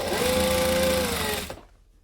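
A sewing machine stitching a shirt hem runs in one fast, steady, whirring burst close up, then stops abruptly after about a second and a half.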